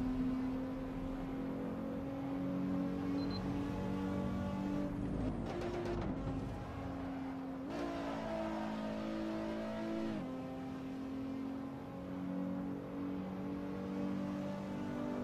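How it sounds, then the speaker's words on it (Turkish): Nissan or Mazda in Assetto Corsa traffic mode, engine revving and pulling hard through gears, a steady loud drone with pitch rising, a brief shift dip, then climbing again, alone with no talk. "Araç gaz veriyor yani."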